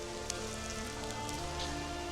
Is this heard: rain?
yes